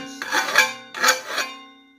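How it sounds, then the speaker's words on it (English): A steel file rasps over the rough chisel-cut edge of a forged camp skillet in two or three close, scraping strokes, with a faint tonal ring from the metal underneath. "so we're going to take our file,"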